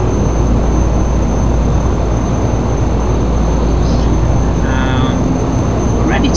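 Carenado Shorts 360 turboprop engines idle steadily in the Prepar3D flight simulator, a continuous loud drone with a low hum while the aircraft lines up on the runway.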